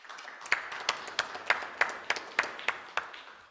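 Sparse applause from a small audience at a drought management panel: around ten separate claps in a steady, even rhythm, faint and slightly distant.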